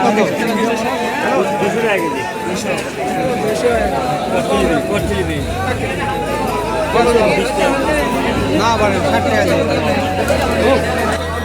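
A dense crowd fills the Dariyal fair in Bogura, a centuries-old traditional Nishan fair, with constant close babble of many voices, people talking nearby, and a low steady engine-like drone joining midway.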